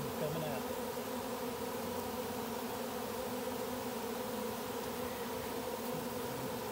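A honey bee swarm drones in a dense, continuous buzz, faint and steady as if heard from a short distance, with overlapping wingbeat tones and no one talking.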